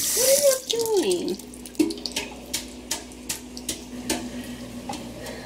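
A kitchen tap runs as shrimp and lobster are rinsed in a sink, with steady splashing water and light knocks of shellfish and dishes throughout.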